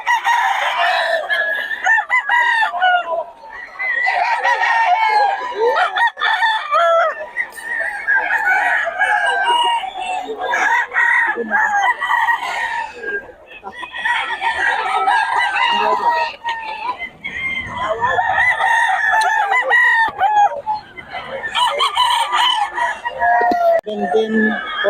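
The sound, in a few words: chickens and roosters crowing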